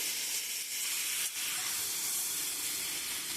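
Boiled jackfruit meets a pan of spice masala that has been cooked down for a long time, giving a continuous soft steamy hiss and sizzle at low level with no talking.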